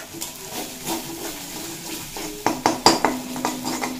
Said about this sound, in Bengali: দিয়ে খুব ভালোভাবে মশলা কষিয়ে নেব যাতে মশলার কাঁচা গন্ধটা চলে যায়